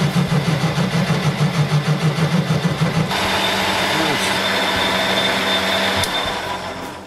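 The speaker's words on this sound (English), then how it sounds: "Pietro sets the machine on auto advance for a finish pass on the base." A metalworking lathe making a finishing pass on the base of an English wheel part, first with a pulsing rhythmic drone, then a steady loud whirring hum that continues to the end, with no talking.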